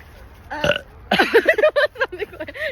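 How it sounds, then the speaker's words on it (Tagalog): A man's loud burps in a burp-guessing game: one short croak, then a long run of voiced, gurgling belches in quick succession, close and forceful. "Lakas ng digay eh."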